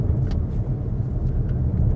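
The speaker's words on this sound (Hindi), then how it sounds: "अब जो है वो गाड़ी तीसरे गियर में तकरीबन 40 से 45 किलोमीटर की स्पीड पे जा रही है।" A car drives in third gear at about 40 to 45 km/h, giving a steady low engine and road rumble that stays loud and even throughout, with no voices.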